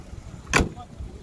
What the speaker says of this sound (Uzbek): mana eshik hozir yopilishi qarang